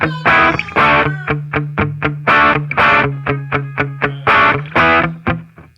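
An electric guitar through a ProCo Brat distortion pedal, distortion at 10 o'clock and tone at noon, plays a choppy riff of short, loud chords and palm-muted chugs, each strike ringing briefly before the next.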